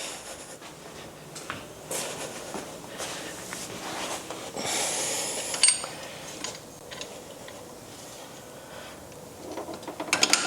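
A ratchet with a 1/2 inch socket works on a John Deere tractor, producing intermittent clicking and mechanical clatter at a moderate distance, fairly quiet and uneven, with no talk.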